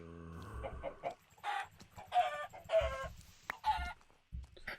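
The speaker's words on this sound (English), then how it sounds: "Trefid, that's a chicken." A Minecraft chicken clucks in a string of short, close, bright calls with brief pauses between them, clear and alone without speech.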